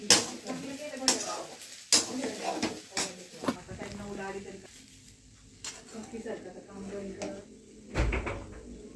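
Pasta being stirred together with Schezwan chutney in a pan, giving irregular clanks and scrapes of a utensil against the metal, some sharp and close, between stretches of a person talking.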